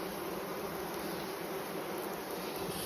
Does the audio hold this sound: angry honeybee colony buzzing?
yes